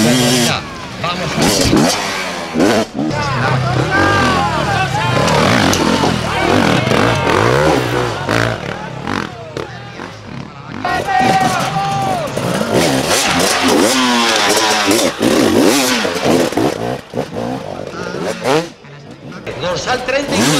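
An enduro motorcycle at an extreme enduro event in Guadalajara climbs a double container obstacle, its engine revving and surging in loud bursts with clattering, under continuous excited commentary.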